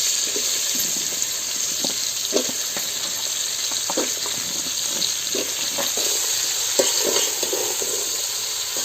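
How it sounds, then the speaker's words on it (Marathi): Jackfruit pieces fry in a spice tempering over a wood-fired stove, making a constant hissing sizzle with soft, irregular scraping taps from stirring, close and without voices. "गरे जे आहेत आपण फोडणीत टाकून घेऊया"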